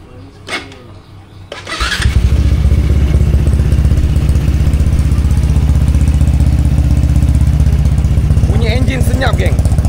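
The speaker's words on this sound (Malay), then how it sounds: "Bunyi enjin senyap geng." A Yamaha RSY15 motorcycle engine with a 70mm upgrade starts after a brief clatter and settles into a steady, loud, even running rumble that continues without a break.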